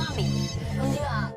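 A telephone rings with an incoming call, its melodic ringtone repeating in short phrases at close range with a voice mixed in.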